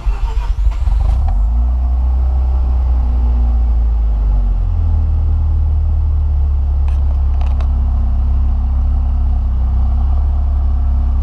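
A Mazda RX-7 FD3S fitted with an Apexi Power FC engine computer cranks and fires up, then settles into a loud, steady, low idle rumble close by with no talking.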